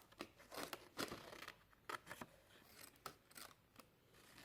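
Scissors snip through paper card in a quick series of crisp, close cuts, with short pauses between strokes while a gift-bag box lid is being trimmed on a punch board.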